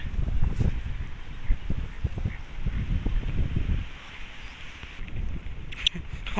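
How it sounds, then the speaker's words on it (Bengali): Strong wind blows outdoors at a village riverside landing in Bangladesh, producing gusty, uneven low rumbling buffets against the microphone that swell and ease throughout. "আর প্রচুর বাতাস আজকে।"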